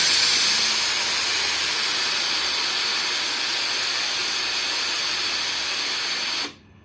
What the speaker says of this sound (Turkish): ütü yaparken buradaki butona bastığımız zaman buhar vermeye başlıyor